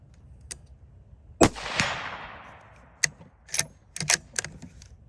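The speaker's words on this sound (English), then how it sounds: "We're going to shoot this prairie dog target a couple times" A Ruger American Gen 2 rifle chambered in .204 Ruger fires at a steel prairie dog target outdoors, giving one sharp loud crack followed by a decaying rumble, with scattered sharp clicks and knocks from handling after it.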